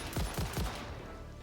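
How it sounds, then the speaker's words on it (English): Rifle fired three times in quick succession in Satisfactory, sharp close reports with low booming tails, followed by a fading rumble. "let's test out the damage for the rifle really quick"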